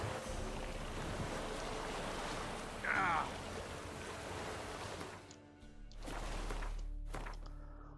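Water washes steadily against a boat sailing in The Witcher 3, a dense broadband wash with wind that dips near the end before surging again, with a brief brighter splash partway through.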